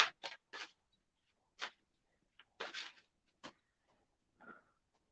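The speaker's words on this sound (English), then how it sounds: "Let me shuffle a little bit more." Tarot cards shuffled in short, quiet bursts of riffling and sliding, several separate handfuls spaced out with silent gaps between them, close and soft.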